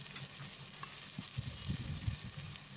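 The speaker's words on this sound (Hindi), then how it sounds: "प्याज डाल दी हमने एक बड़ी, अच्छे से लाल कर लेंगे।" Onion frying with cumin seeds in a pan for a chickpea and potato curry, a steady soft sizzle with crackles throughout, no voices.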